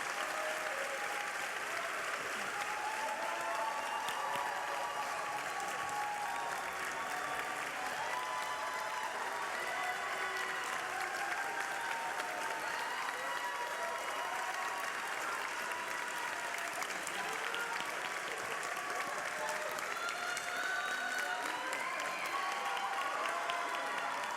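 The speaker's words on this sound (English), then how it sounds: "a round of applause for the Staggs Academy of International and STEM Studies 2019 graduating class" Sustained, dense applause from a graduation ceremony audience fills the hall for the Staggs Academy of International and STEM Studies 2019 graduating class, loud and steady throughout with no break.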